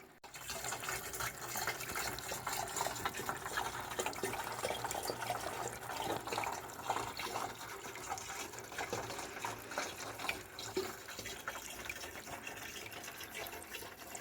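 Spring water runs steadily straight out of the side of a rock during deer season, a continuous broadband splashing and trickling that stays fairly loud and even throughout, with no voices.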